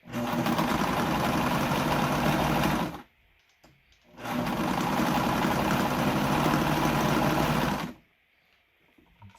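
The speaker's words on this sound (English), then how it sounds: "This stuff really likes to bind up inside of the sewing machine." A sewing machine stitches fabric for a homemade Krampus costume. It runs in two steady, whirring bursts of about three to four seconds each, close and loud, with a quiet pause between them.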